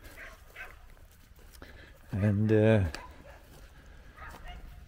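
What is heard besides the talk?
neighbor's dogs barking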